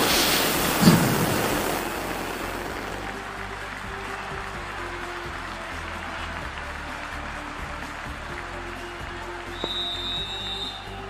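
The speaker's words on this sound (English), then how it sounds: "the crowd is making plenty of noise for the opening game" A cricket stadium crowd roars before the opening game of the Women's T20 World Cup, a broad sustained wash of cheering that swells at first and then settles into a steady distant murmur.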